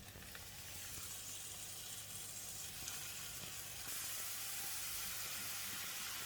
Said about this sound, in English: Saute them for about 1 minute or until slightly softened.